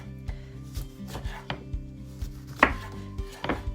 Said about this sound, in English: Once you've got the lemon zest off with the potato peeler, you're going to slice it into rounds.